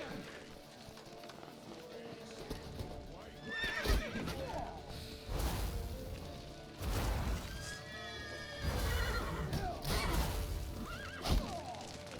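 A horse in The Witcher 3 gives several loud whinnies and neighs amid hoof clatter and in-game commotion, with shouted voices in the background.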